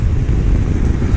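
A BMW F650 GS motorcycle ridden on the road, a brief loud burst of engine drone buried in heavy rushing wind noise, with no voices.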